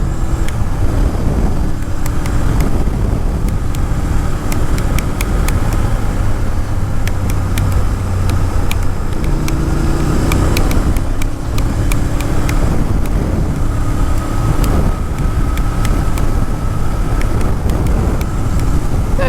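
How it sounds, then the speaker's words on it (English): A Honda VTR1000 Firestorm (Superhawk) motorcycle accelerating up through the gears on a test ride, heard as a continuous loud engine drone mixed with heavy wind rush across the microphone. "we'll speed it up a bit now and let's get all the way up to top gear"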